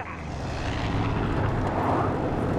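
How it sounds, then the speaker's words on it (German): Propeller airplane passing overhead in the video game Far Cry 5, a steady broad engine drone that swells slightly toward the end, alone without talk. "da ist ein Flugzeug gewesen."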